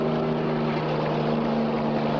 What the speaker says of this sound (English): Hey, listen. In the helicopter.